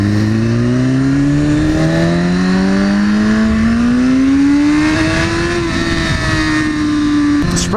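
A Porsche 911 Turbo S pulls away hard, its engine note climbing steadily through a long, loud rev that stays close and dominant, with a brief shift-like dip near the end.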